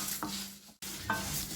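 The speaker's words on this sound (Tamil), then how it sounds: "நல்லா சவக்க வறுத்துட்டு" Urad dal being dry-roasted in a pan for sesame rice powder, with steady soft stirring scrapes and a light dry sizzle, close and continuous, briefly pausing midway.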